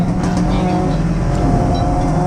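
A small MG Midget race car drives on a circuit, its engine a loud, steady buzzing drone with rumbling low end, while a commentator talks over it throughout.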